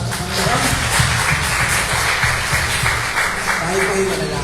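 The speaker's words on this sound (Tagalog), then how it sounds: "Sige po, bigay po natin ang palakpak sa ating Panginoon." A church congregation claps for the Lord during a Filipino Sunday worship service, a steady dense wash of applause running the whole time with a voice talking over it.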